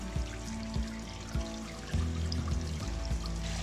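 Water streams from a pipe onto a watermill wheel beside a backyard pond, a constant rushing pour under a low mechanical hum, with soft rhythmic knocks recurring as the wheel turns.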